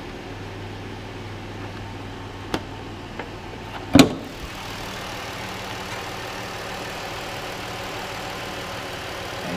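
A 2014 Ford Edge with a 3.5 liter engine runs at a steady, smooth idle, heard close up, with a couple of brief clicks and a short knock partway through.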